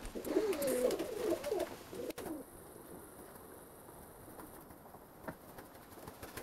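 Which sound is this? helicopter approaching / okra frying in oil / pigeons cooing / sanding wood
pigeons cooing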